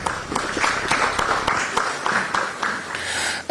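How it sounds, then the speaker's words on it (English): Audience applause at a Ghanaian event on democracy and development, a short burst of scattered, fairly close claps with a busy irregular rhythm, fading slightly before an abrupt end. "Let's give him another round of applause."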